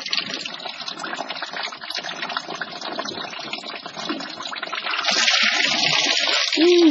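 Mostly water draining out of the bevel gear housing on a 1939 Caterpillar D4 crawler tractor, a steady loud gushing stream that grows fuller toward the end, with no speech.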